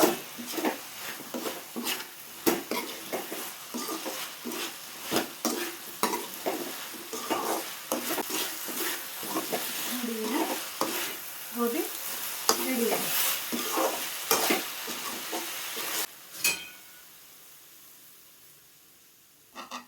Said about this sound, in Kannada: ಗೋಬಿ ಹಾಕ್ಕೊಂಡು ಚೆನ್ನಾಗಿ ರೋಸ್ಟ್ ಮಾಡಿಕೊಂಡ್ರೆ ಗೋಬಿ ರೆಡಿ